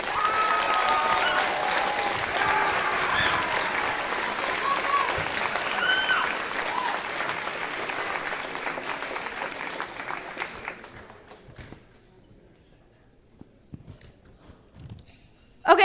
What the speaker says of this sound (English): Let's give all of them a huge round of applause.